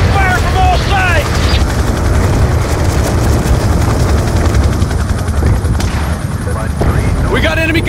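A helicopter gunship in the Call of Duty Black Ops II campaign roars overhead in a dense battle mix, its rotor drone under gunfire, explosions and shouted voices.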